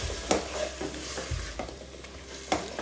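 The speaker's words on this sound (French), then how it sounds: "Voilà, on mélange la patate douce." Sweet potato being stirred in a pot gives a short series of scraping and clinking utensil strokes over a soft background sizzle, heard close with no talking.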